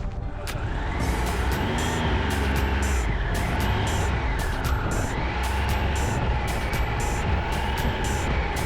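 A motorcycle rides the open road in a group, its engine a loud, steady drone with rising and falling pitch and heavy wind rush, and another vehicle's sound sweeps past midway.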